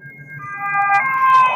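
A siren rises and holds over low road rumble as a police vehicle speeds past during a chase, loud and close for a brief moment.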